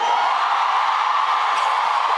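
Crowd cheering and whooping at a Kamala Harris political rally, a dense continuous roar of many voices at a steady level throughout.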